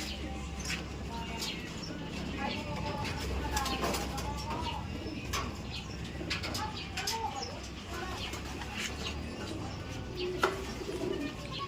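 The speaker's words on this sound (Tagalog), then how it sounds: "Kunin ko lang yung ibon." Pigeons coo softly at a distance amid faint outdoor noise, with scattered sharp clicks and occasional quiet voices in the background.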